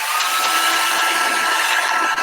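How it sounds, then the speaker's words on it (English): A hairdryer heating a foam tube inside a tube runs as a continuous, close, loud broadband whirring roar for the whole stretch, with no talk. "now I heat it with the hairdryer to heat it up"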